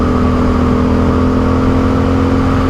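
Aprilia Dorsoduro 750 motorcycle engine braking on a test ride, a steady loud engine drone with a mechanical whir holding through the whole stretch, no voices over it.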